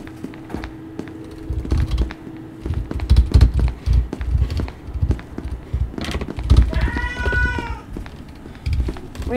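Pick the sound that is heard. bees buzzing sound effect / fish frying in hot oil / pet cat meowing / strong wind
pet cat meowing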